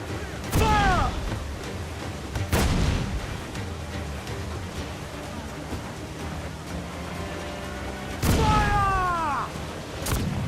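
A fully upgraded swivel gun fires in a naval battle in Assassin's Creed 4: Black Flag, with a few sharp booming shots spaced seconds apart over a steady rumble of battle, and voices talking in between.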